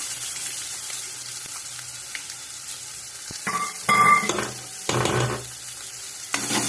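Chopped onions and asafoetida frying in hot oil for a khichdi tempering: a steady sizzle with louder bursts as ingredients go in, plus scraping stirs and a few metal clinks from the pan, close up, no speech.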